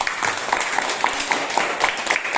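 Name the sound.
class applause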